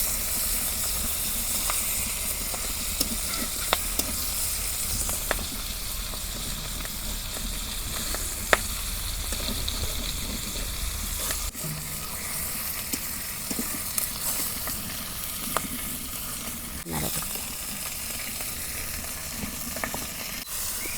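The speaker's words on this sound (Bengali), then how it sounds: "মাছ ভাজা হচ্ছে" Pieces of rohu fish, including a large head, fry in hot oil in a pan, giving a steady close sizzle and hiss throughout, with a few faint clicks and spatters and no talking.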